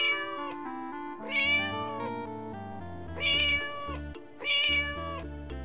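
A cartoon cat in an animated story meows repeatedly, in several drawn-out tonal calls over a backing of musical tones. The calls are close and clear, with no speech.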